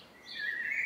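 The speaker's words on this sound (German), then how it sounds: "Das ist nur ein Vogel, der das macht." A bird calls from a rooftop with a brief, faint, high whistling note that rises slightly and holds, distant and alone over quiet background.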